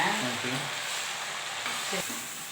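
Fresh spinach greens sautéing in a hot pan, a soft continuous sizzle with light stirring scrapes, moderately faint, under a voice.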